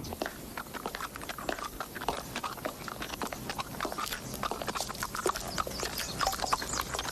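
Horse hooves clip-clop in a steady rhythm on a hard surface, moderately close, with a soft background hum and no talking.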